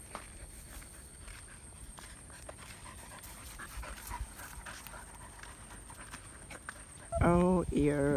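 A hunting dog pants in quick, steady breaths close by, mixed with shuffling footsteps and outdoor noise, and a person's voice calls out near the end.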